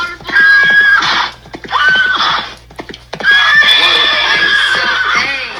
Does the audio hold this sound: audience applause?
no